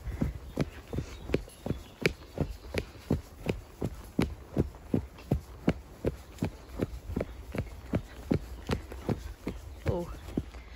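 Steady, rhythmic thuds of a horse's hooves cantering on hard, dry ground along a farm track, heard up close from the saddle, with an even beat of roughly two strikes per second throughout.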